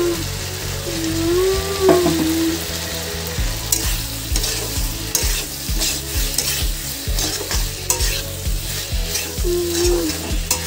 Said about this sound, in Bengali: চলো এর মধ্যে এবার ভাজা চিংড়ি মাছটা আমি দিয়ে দিচ্ছি।